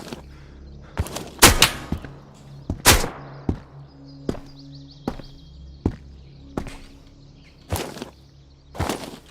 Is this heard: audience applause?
no